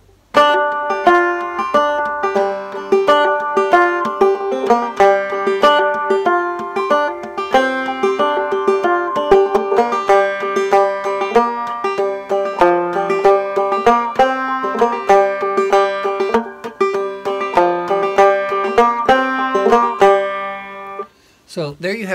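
The old-time tune Cluck Old Hen is played through once on a plucked string instrument, a steady stream of clear picked notes with a bright, even rhythm, close and solo with no voices.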